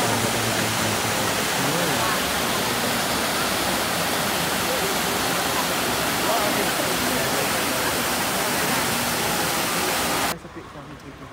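Trevi Fountain in Rome pours in a loud, dense, continuous roar of splashing water, heard close up and steady for about ten seconds before cutting off abruptly.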